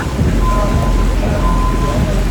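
Heavy rain pours steadily during a storm near New Orleans, a dense, loud, continuous wash of water with deep low rumbling of thunder underneath, with no break across the whole stretch.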